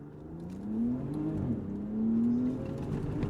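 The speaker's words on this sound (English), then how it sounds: "Man, that inline 6 sounds like a sports car engine, not a monster truck motor." A 2025 Ram RHO pickup's 540-horsepower inline-six engine accelerating hard on a dry lake bed, a smooth rising drone that climbs in pitch, eases briefly, then swells and climbs again, heard from inside the truck.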